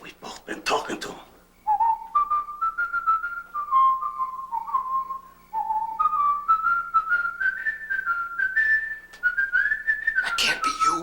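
A person whistles a slow, wandering melody in a quiet indoor room, clear and close, with voices speaking briefly before and after the tune.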